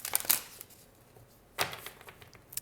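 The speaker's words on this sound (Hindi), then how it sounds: "सो पहले हम डेक को शफल कर लेते हैं" A tarot card deck being shuffled in two short, soft riffling bursts, one at the start and one midway, with quiet pauses between them.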